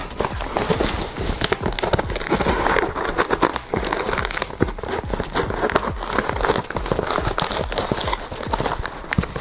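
Heavy handling of a heavily taped parcel bought secondhand: loud, continuous crinkling and crackling of packaging, with repeated tearing and ripping of adhesive tape and sharp bursts throughout.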